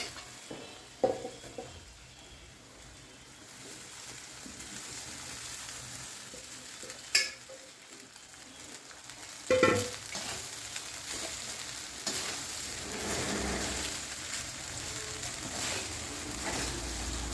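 Rice stir-fried with mango pickle in a pan, a steady low sizzle with irregular spatula scrapes and a few sharper knocks against the pan, close and fairly quiet.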